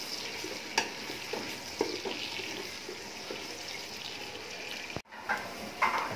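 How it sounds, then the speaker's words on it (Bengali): Onions and a bay leaf fry in a pan with a steady, close sizzle, broken by occasional scrapes and knocks of stirring and a brief sharp clatter near the end. "পেঁয়াজটা আমার প্রায় ভাজা হয়ে গেছে, এখন আমি চালটা দিয়ে দিব।"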